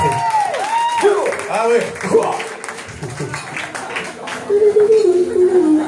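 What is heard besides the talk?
audience applauding the drummer at a concert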